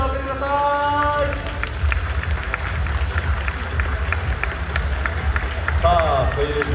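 At a talk show with two Shonan Bellmare footballers, the audience applauds as a dense, steady patter under a loud announcer's voice, with crowd murmur throughout.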